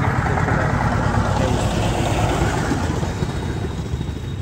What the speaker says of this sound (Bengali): এখানে একটা নৌকা আসতেছে